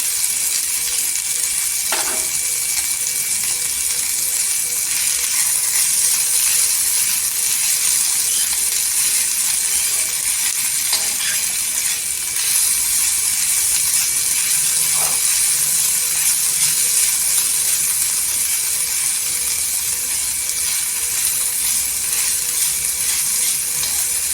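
Thecha, a crushed chilli paste, fries in oil in a village kitchen, giving a continuous bright sizzle and hiss throughout, with a few faint clinks of utensils and no talking.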